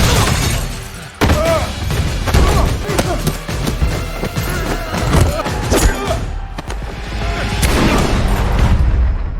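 Sharp, loud shattering bursts and heavy booms from gunfire in an action film, clustered in a chaotic sequence with crashes and impacts at close range.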